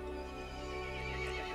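Horse in the video game Resident Evil Village gives a sustained, loud neigh, alone and continuous for the whole short span.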